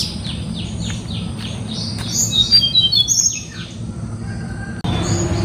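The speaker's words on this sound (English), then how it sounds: "Listen that bird sounds" Several birds sing and chirp in a series of bright, sweeping calls over a steady low outdoor rumble, with a brief busier burst of song midway, at a resort in Hyderabad.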